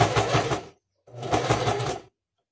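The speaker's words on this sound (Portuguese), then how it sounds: "eu vou direto costurar" A sewing machine stitches fabric for a Christmas house panettone cover in two short runs, the first under a second long and the second about a second long, with a brief silence between them.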